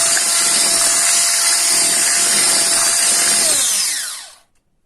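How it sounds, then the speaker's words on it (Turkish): An electric hand mixer whisking cream whirs loudly and steadily at high speed for several seconds, then spins down and stops. "Daha sonra mikserle yapacağım."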